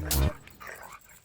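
A dog gives one loud, sharp bark up close at the start, followed by fainter rough growling sounds that trail off quietly.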